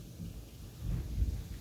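Thunder rumbles low and distant during a nighttime thunderstorm with rain, a soft rolling swell building toward the end over a faint steady hiss of rainfall, with no voices.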